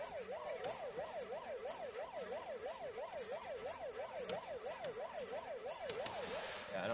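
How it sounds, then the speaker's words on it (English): A video game air raid siren wails, rising and falling in a steady, rapid cycle throughout, fairly loud, with faint background noise and clicks. "you hear that nice little air raid siren going on"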